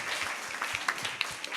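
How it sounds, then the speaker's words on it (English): Audience applause for a school creative arts team after a story performance, a steady moderate wash of many hands clapping throughout, with no speech over it. "can we have a round of applause for the entire team"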